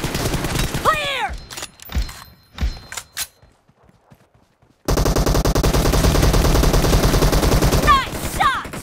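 Gunfire in PUBG Mobile: a few scattered shots and thumps, then a dense, sustained burst of rapid automatic fire that runs loud and continuous to the end, with brief voice chatter early on.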